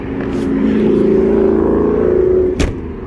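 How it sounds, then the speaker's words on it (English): A loud modified car passes on a street in Elkhart, its engine droning steadily close by for a couple of seconds, followed by a sharp brief burst near the end. "Elkhart's always loud with sound improved cars and all that crap"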